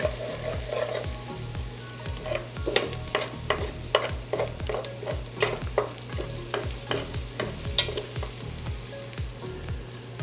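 Onions and mixed vegetables sauté in a pan for an Italian dish, a steady sizzle running throughout with repeated scraping stirs in a loose rhythm, close and fairly loud, with no talking.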